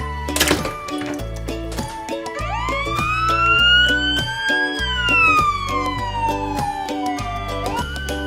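A red toy ambulance sounds its siren loudly, a rising and falling wail over a bouncy musical backing, with a sharp knock at the start.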